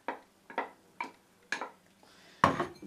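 A spoon knocks and scrapes against a pot while vegetable soup with carrots and onions is stirred. The soft clinks come in a rough rhythm of about one per half second and end with a slightly louder clatter.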